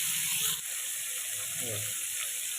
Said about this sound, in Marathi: पनीरमध्ये पाणी असतं त्यामुळं असं चुक चुक करतं तेल उडतं आहे